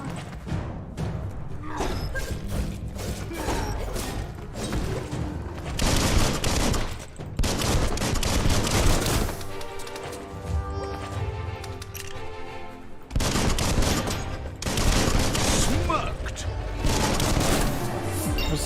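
Pistol gunfire in the video game Biomutant, loud bursts of rapid shots in several clusters over a busy bed of game action, with heavy thumps and impact noise between volleys.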